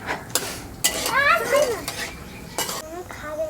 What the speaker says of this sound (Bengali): কটা ফোড়ন নিয়েছি দেওয়ার জন্য শুকনো লঙ্কা আছে গোটা জিরে আছে তেজপাতা আছে